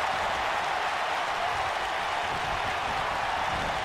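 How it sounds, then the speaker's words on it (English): Arena crowd noise in the WWE 2K19 wrestling video game during a match, a constant dense roar of the audience with no distinct chant rhythm standing out, steady and loud. "you hear the yes chant."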